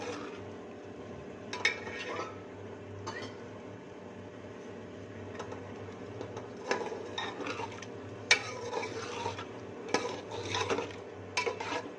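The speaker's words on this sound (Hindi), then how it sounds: "अच्छे से हमने चनों को भी भूनना है।" Chickpeas being stir-fried in a pot of masala for chana pulao, a spoon scraping and clinking against the metal in intermittent bursts over a low background hum, with no talking.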